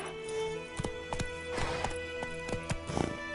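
Geralt's horse Roach in Witcher 3 moves at pace, hooves clopping in a quick irregular rhythm on the ground, mid-distance and moderately loud, with no speech.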